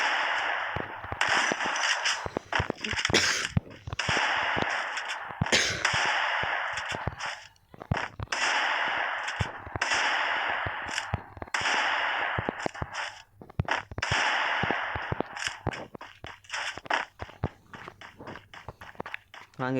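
Rapid bursts of gunfire in a mobile shooter game, dense crackling volleys repeating almost continuously with brief gaps, loud and close.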